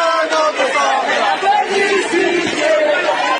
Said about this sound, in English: Whilst crowds celebrated